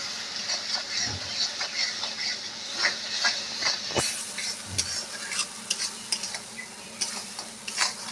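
Chunks of unripe jackfruit and potato hiss and sizzle as they fry in spice paste and oil, with a steady crackle broken by the scrape and clatter of stirring, close and alone with no voices.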